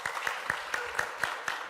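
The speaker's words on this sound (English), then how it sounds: "Let's give her a round of applause." Applause from a congregation at a school of ministry gathering, with distinct individual claps landing in a regular, fairly slow rhythm over a soft bed of crowd noise, moderately loud and close.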